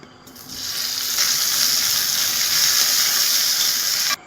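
Okra hisses and sizzles steadily as it sautés in oil in a pan for a Kerala dal curry, the frying noise swelling quickly to a loud, even crackle that holds, then cutting off abruptly, with no voices.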